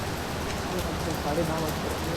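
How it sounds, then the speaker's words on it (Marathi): Steady rain falling, a continuous hiss of drops on surfaces with no break, fairly soft and even throughout. "पाऊस आला मगाशी पाऊस नव्हता"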